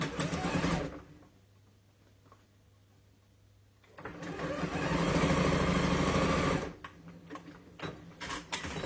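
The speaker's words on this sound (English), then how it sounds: "And now I am going to sew it." Domestic sewing machine running in steady motorized bursts while stitching pieced triangles of a sampler quilt block, the longest run lasting a few seconds between pauses, close and fairly quiet with no speech.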